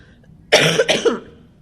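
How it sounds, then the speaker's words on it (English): Two quick, harsh coughs in close succession, loud and near, with silence before and after. "I have this awful cough, which is just wonderful."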